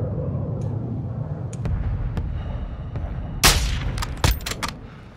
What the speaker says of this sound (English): requesting close air. Target mark. Then our strike on the mark.